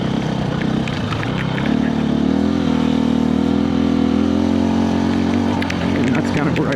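A 2024 KTM 350 EXC-F dirt bike engine runs steadily in the desert, holding a loud, continuous drone with slight rises in pitch and a few brief revs, while a voice talks over it.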